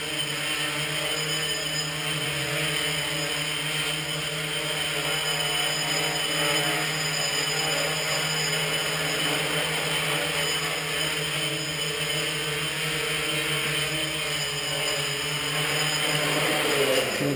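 A GAUI 500X RC helicopter with a NAZA flight controller flies before landing, its steady rotor and motor whine holding a constant, droning pitch with even loudness throughout.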